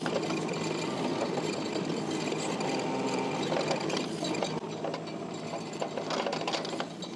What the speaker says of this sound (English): So I'm just gonna do a little bit here with the excavator.